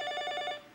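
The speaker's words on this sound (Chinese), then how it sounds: "这么早是谁打电话来？" A telephone bell rings in one short burst of rapid repeated trills, close and clear, then cuts off, with no talk over it.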